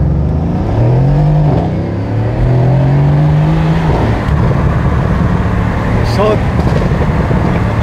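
A very loud Porsche sports car revs hard nearby, its engine note rising and falling in long sweeps before settling into a steady roar with road noise around it.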